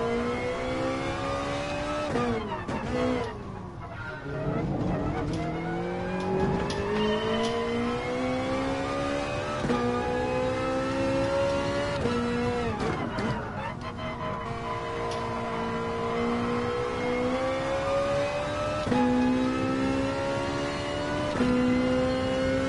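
A race car engine in GT Sport during an FIA championship race revs up and down through gear shifts, a continuous, steady, loud whine that climbs and drops.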